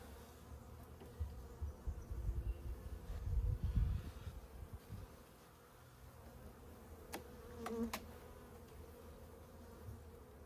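Honey bees buzz around a double hive, a faint, continuous hum that swells louder for a few seconds as bees pass close, then settles back, with occasional sharp clicks.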